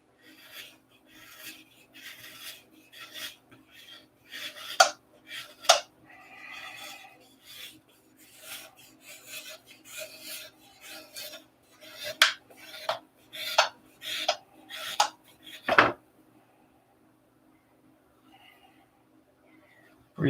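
A nose is carved from a block, with shavings falling away as steady, rhythmic rasping strokes follow one another. The strokes are close and fairly loud, with a few sharper scrapes, before fading to near silence at the end.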